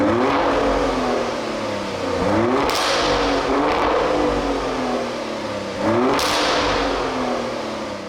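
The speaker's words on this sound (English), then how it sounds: "it really opens up the exhaust to sound performance-y. Take a listen to a couple of revs in Corsa." A 2023 Maserati Grecale Trofeo revs hard twice in Corsa mode, the exhaust snarling up and dropping back each time, loud and close with a steady rumble between the blips.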